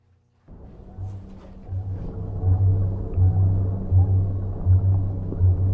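A recorded blue whale call plays as a deep, pulsing low rumble that starts abruptly and then swells in a steady series of throbbing beats, loud and sustained.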